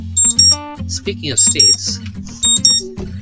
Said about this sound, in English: that's my alarm to remind myself what state I'm in